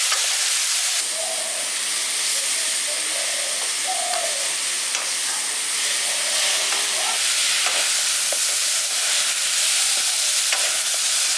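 Hog plum pickle being stirred by hand with salt, turmeric and Kashmiri chili powder, giving a steady close hiss with soft scraping and occasional clinks of the spoon, with no talking.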